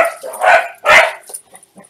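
Dogs bark in two loud, close bursts, followed by a few fainter yips and scattered small noises as the barking tails off.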